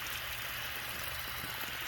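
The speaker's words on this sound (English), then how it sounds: "But it looks like there's plenty of water coming" Pumped water pouring out in a steady, rushing flow at an estate, a continuous broadband hiss and splash with no pauses, moderately loud and heard alone.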